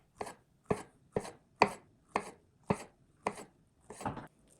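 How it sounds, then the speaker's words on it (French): A knife slices fruit halves very finely lengthwise on a board, giving eight crisp, evenly spaced cuts about half a second apart, close and clear with no talking. "On va utiliser 2 moitiés pour le tour que l'on va couper très finement dans la longueur."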